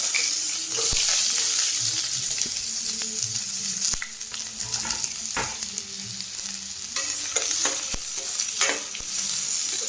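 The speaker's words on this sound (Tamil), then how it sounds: "ஸோ வெங்காயம் கருவேப்பிலை ஆட் பண்ணிட்டு இது வந்து நல்லா கொஞ்சம் நல்லா சாட்டே ஆகணும், இது நல்லா வதங்கட்டும்" Onions and curry leaves sizzle and fry in a pan for a Kerala-style chickpea curry, with a steady crackling hiss broken by repeated scraping stirs of a spoon.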